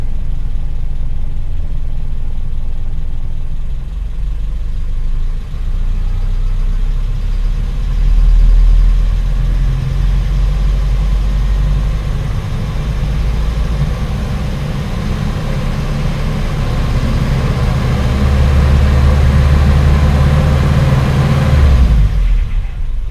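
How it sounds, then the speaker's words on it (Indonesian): A carbureted Toyota engine runs steadily and close by, its low rumble swelling gently as the throttle is eased open, then cutting off abruptly near the end. No voices are heard. "kita urut gas, injak pelan sekali teman-teman, akselerasi yang halus sambil mengecek apakah ada jeda di tengah perpindahan RPM rendah ke tinggi"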